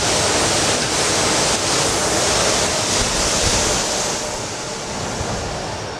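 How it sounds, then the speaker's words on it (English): Continuous broadband hiss and rushing air from a paint booth in an Aristides guitar factory, steady and fairly loud throughout with a slight drop near the end, no voices. "Gonna have some noise from the paint booth over here."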